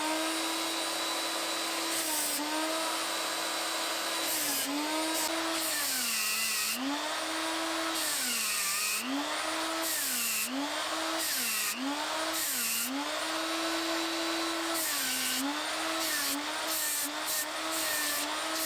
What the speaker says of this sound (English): I'll do that with sandpaper on the power sander